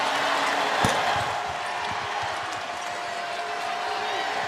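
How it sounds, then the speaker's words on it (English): A packed arena crowd roars through a Gonzaga vs Utah women's basketball game, a dense sustained wash of cheering with a single sharp bang early on. "Listen to this crowd."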